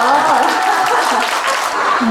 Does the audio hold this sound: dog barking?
no